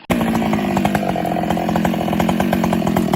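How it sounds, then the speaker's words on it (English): A chainsaw cuts through tree trunks during tree removal, snapping on at once into a loud, steady, close roar with a rapid chain rattle that holds for the whole stretch. "The roar of the chainsaw cuts through the air, its blades sinking deep into each trunk like a strike of judgment."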